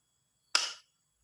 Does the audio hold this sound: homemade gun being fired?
yes